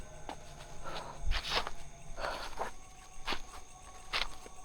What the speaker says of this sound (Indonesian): dari tadi tuh aku mendengar suara langkah kaki